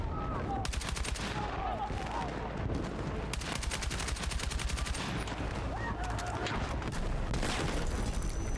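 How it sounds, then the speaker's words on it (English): Rapid automatic gunfire in Battlefield 6 multiplayer, rounds striking concrete in dense, loud bursts that barely let up, with brief talk mixed in underneath. "I'm shooting the actual concrete there because I'm not staggering that fire enough."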